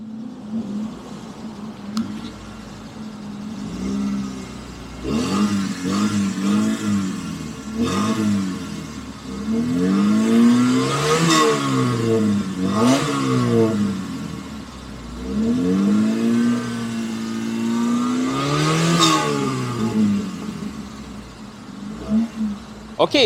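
Proton Iswara rally replica car's engine revved repeatedly, rising and falling in pitch through several blips and longer pulls, loud and close, with a person's voice heard faintly between revs.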